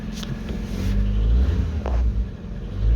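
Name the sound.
car engine with blowing exhaust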